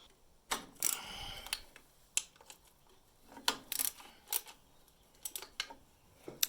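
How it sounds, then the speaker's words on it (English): Bolts are loosened and removed from the carburetor of a riding lawn mower, giving sharp metallic clicks and short ratcheting bursts close by, spaced irregularly and separated by quiet gaps. "Now we've got two of these bolts, one here and one directly on the other side. We're going to remove those."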